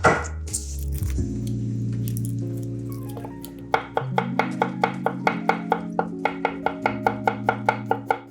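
A kitchen knife mincing garlic on a cutting board, starting after a sustained tonal hum, then a fast, steady run of crisp close chops tapping against the board.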